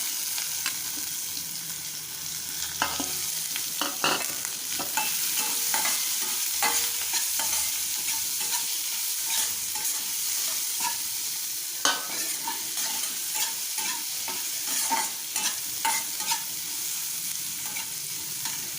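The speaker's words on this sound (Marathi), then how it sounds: "हिंग कढीपत्ता घालायचा कांदा घालून कांदा भाजून घेऊया" Onion frying in a pan with asafoetida and curry leaves makes a continuous close sizzle, with frequent spatula scrapes and stirring clatter over nearly twenty seconds.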